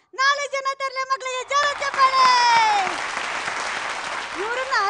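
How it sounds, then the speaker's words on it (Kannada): A TV-show audience gives loud applause for four children on stage. Voices call out briefly first, then broad clapping swells and continues for several seconds before a voice returns at the end. "ಮತ್ತು ಶರ್ಟ್ಗಳು ಅರ್ಪಿಸುವ 4 ಜನ ತರಲೆ ಮಕ್ಕಳಿಗೆ ಜೋರ ಚಪ್ಪಾಳೆ."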